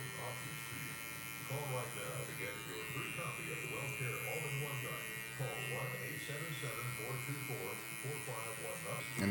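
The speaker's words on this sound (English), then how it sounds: "I'm gonna start with my clipper all the way open first" Electric hair clippers cut hair during a bald fade with the lever adjusted, their steady buzz running close and continuous while a voice talks over it.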